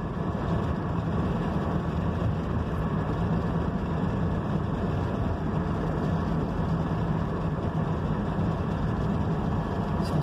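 A car coasting in neutral with the engine idle, giving a steady, unbroken low road and tyre rumble that stays at an even level throughout, with no voices.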